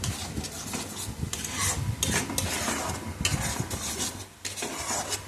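Mango kasundi being mixed with mustard oil, giving steady scraping and stirring strokes with a faint sizzle-like rasp, close and continuous, with no talking.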